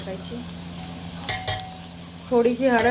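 Green chillies sauté in hot tempering oil with turmeric, giving a low sizzle with a couple of sharp utensil clinks. A voice speaks briefly near the end.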